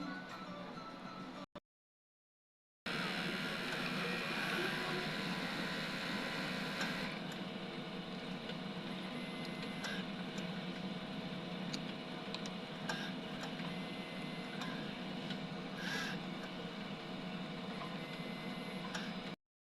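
An inkjet printer with an XP600 print head runs a nozzle test with a steady mechanical whir and faint rapid ticking, broken early by a brief silence, then continuing evenly to the end.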